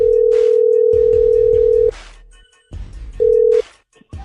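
A telephone line gives a steady dial tone while a call is placed, with a long tone, a pause, then a shorter tone, clicks and faint noise between them, loud and close.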